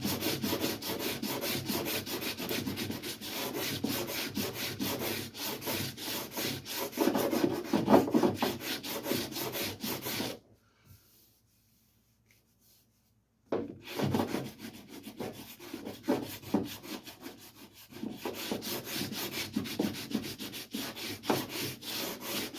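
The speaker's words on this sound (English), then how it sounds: "for sanding this lip, I found a socket that's kind of corresponding to the roundness" Hand sanding the body lip of a 1970 Datsun 510 with sandpaper wrapped over a socket, a close, steady rasping rub in continuous strokes, broken by a few seconds of silence midway before the scraping resumes.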